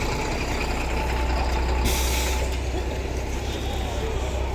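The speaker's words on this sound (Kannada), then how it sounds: "ರಿವರ್ಸ್ ಹೋಗ್ತಾ ಇದ್ದಾರೆ ಗಾಡಿ ನೋಡಿ" A bus reversing at Bhadravati bus stand, a loud continuous low diesel engine rumble with an air-brake hiss partway through, amid busy station noise.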